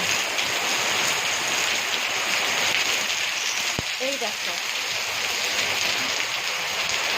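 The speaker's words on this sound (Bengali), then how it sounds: "বিশাল বৃষ্টি হচ্ছে" Heavy rain pours down in a dense, steady hiss, with a voice speaking briefly partway through.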